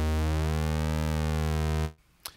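A Europa synthesizer in Reason 10 set to a pulse width wavetable plays one loud, steady, buzzy sustained tone that cuts off abruptly, followed by near silence and a brief click.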